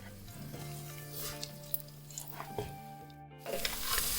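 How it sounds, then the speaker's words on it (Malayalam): Ghee rice grains dry-roasting in a pan for a Malabar king fish biryani give a steady close sizzle with soft stirring scrapes throughout, no voices. "അത് നമുക്കിതിലിട്ട് നല്ല പോലെ ഒന്ന് വറുത്തെടുക്കണം."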